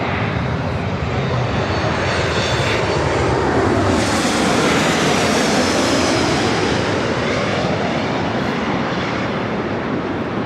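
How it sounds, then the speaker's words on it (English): Southwest Airlines Boeing 737 MAX 8 arriving at Los Angeles LAX from San Francisco, a loud, close jet roar that swells and sweeps past, filling the whole stretch with sustained engine noise and no voices. "This arrival is Southwest Airlines 1942 coming in from San Francisco on the MAX 8."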